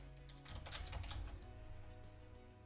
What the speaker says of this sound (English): I can type in their name,